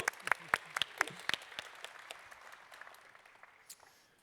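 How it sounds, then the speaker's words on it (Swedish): Keynote audience at Microsoft TechDays 2014 applauding: a few sharp, separate claps at first, then a soft, fairly distant wash of clapping that slowly fades out. "Jag tycker vi ger Johan en varm applåd."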